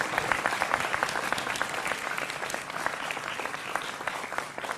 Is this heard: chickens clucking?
no